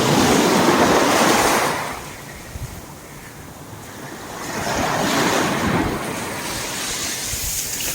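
Ocean waves wash up on Yelapa beach, surging loudly, easing off, then building again, with heavy wind buffeting the microphone and no voices.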